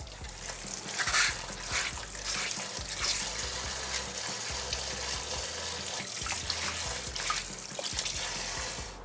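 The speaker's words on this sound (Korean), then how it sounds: "오이는 깨끗이 씻어야 되거든요. 이거 씻는 것이 굉장히 중요합니다." Cucumbers are washed by hand in water for pickling, with a steady run of splashing, sloshing and gentle rubbing, close by and unbroken for about nine seconds, with no talking.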